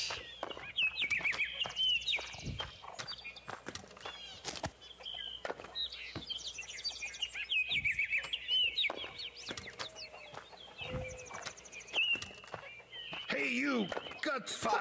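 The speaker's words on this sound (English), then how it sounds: "Chickens." Chickens clucking in the PC game Black Book, with repeated close clucks and squawks recurring across the stretch while voices talk over them.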